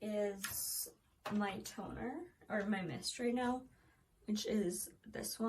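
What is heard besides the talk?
No everyday noise stands out behind the speech.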